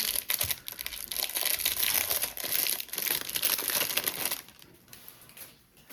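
Foil wrapping is peeled off a chocolate Easter egg, a close, continuous crinkling and crackling that stays busy for several seconds before thinning out into a few softer rustles.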